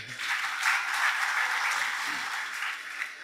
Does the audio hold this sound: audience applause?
yes